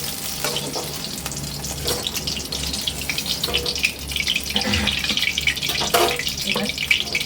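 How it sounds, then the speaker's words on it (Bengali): Eggplant pieces frying in hot oil in a Bengali home kitchen, a continuous crackling sizzle with occasional scraping and clattering from a utensil moving the slices around. "বেগুনগুলো হালকা লাল করে ভেজে নেব।"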